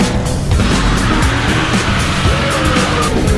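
A car skids in a film sound effect for a road accident where someone is struck. Loud, continuous tire and engine noise fills the whole stretch at close range, with no talking.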